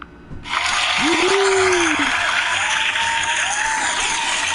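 Applause breaks out abruptly and continues as a steady, dense clatter of clapping, with a short whistle-like tone early on.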